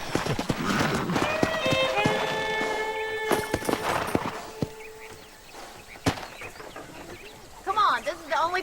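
Horse hooves clip-clop and a whinny ring out in the Red Dead Redemption western game, with steady hoofbeats under voices and music, then fading toward quieter hooves near the end.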